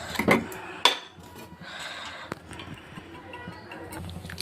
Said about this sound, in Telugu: స్టవ్ ఆన్ చేసి కళాయి పెట్టుకొని అందులో ఆయిల్ పోసుకుందామండి